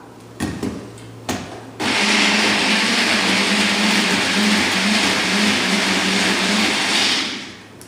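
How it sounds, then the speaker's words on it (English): Blender with a blending blade mixing fresh garlic into marinara sauce: a couple of short pulses, then a loud, steady motor whir running close for about six seconds before winding down. "we're going to use our blending blade and mix this all up"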